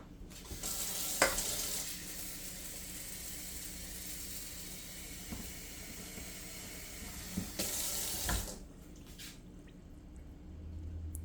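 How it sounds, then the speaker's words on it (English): Water runs from a tap into a rice cooker pot of white rice in a kitchen, a soft continuous splash with brief louder bursts and clinks near the start and near the end. "So we're going to go up to the line with the white rice with the water."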